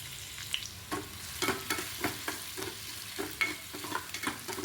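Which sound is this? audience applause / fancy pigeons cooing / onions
onions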